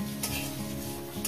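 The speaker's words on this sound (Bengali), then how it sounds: "মিনিমাম 1 মিনিট আমি ভেজে নেব।" Spice masala fries in a pan with a little salt for a spicy Punjabi-style chicken curry, giving a steady close sizzle with occasional scraping stirs of a spoon, soft and continuous without voices.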